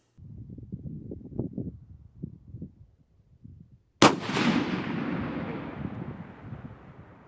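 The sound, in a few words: custom 300 PRC rifle shot with Hornady 225 grain ELDM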